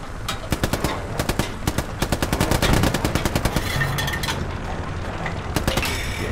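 Machine gun fire in the game Hell Let Loose: rapid, evenly spaced automatic shots in long sustained bursts, loud and close, with mechanical clatter running under the rattle.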